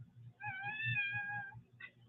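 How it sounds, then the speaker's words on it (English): A kitten meows once in a drawn-out, rising and falling cry, followed by a short second chirp, faint over a low background hum. "Oh, there's Kitty."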